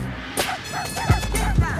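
Small dogs yip and whimper in a Super Bowl commercial, a few short high barks and whines spread through a brief stretch over faint background sound.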